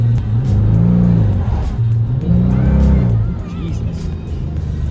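A rare modified V6 Volkswagen Passat with a loud exhaust and DSG gearbox drives hard, its engine note rising and falling through revs with a deep, throaty growl heard from inside the car.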